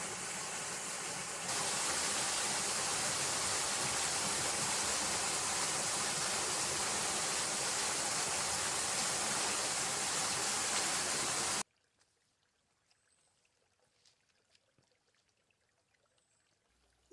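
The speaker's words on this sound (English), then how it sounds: "I discovered some unnamed waterfalls along the trail here." Small unnamed waterfalls along the Sheltowee Trace trail give off a steady, broad rushing pour for about eleven seconds, then the sound cuts off abruptly into near silence with faint outdoor ambience.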